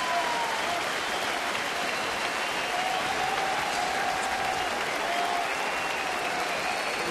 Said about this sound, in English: the fans with a nice round of applause for the young left-hander